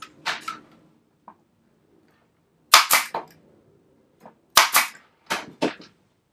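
A Parkside pneumatic stapler driving staples into hard, solid wood, heard as two clusters of sharp, loud, close bangs, each shot followed by quick rattling and a hiss of air.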